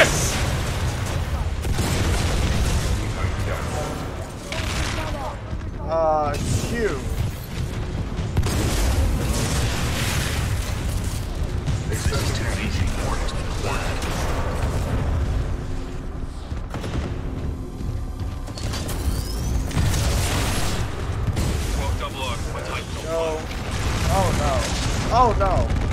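Dense booming explosions and rapid gunfire from missiles and weapons in the video game Titanfall 2 on hardest difficulty, loud and continuous with a voice talking over the battle.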